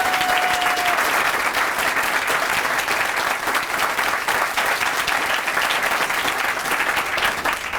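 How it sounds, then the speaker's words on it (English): Audience applause at a county dedication ceremony for Silver Spring apartments: sustained, crowded clapping holds steady and loud for several seconds without a break. "Let's give another round of applause for us."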